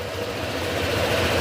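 A motorcycle engine running steadily just after starting, following a fix to its side stand switch: a close, even idle hum that holds at a constant pitch and level for the whole moment, with no voices.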